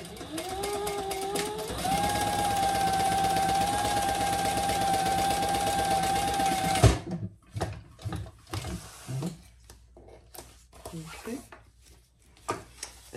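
A sewing machine motor drones steadily for about seven seconds while sewing a seam on a Bartleby sling bag, its pitch rising slightly at the start, then it stops abruptly, followed by scattered fabric handling and soft knocks.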